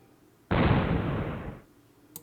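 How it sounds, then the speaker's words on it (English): A sudden explosion in the Amber Quartz visual novel game bursts in as a loud, broad rumbling roar lasting about a second before fading out, with no talk over it. "a sound that seemed to shake me to the core echoed from the distance. Was that an explosion?"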